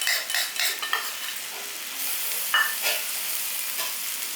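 Garlic paste stirred into browned onions in a hot wok, sizzling steadily with repeated scraping and stirring strokes, close and fairly loud, with no talking.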